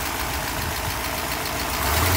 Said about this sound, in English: Beautiful, beautiful engine today.